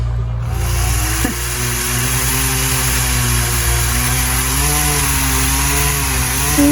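A chainsaw cutting down tree limbs during backyard yard work runs loud and close, its engine droning continuously with a slowly wavering pitch as it bites through the wood, with no talk.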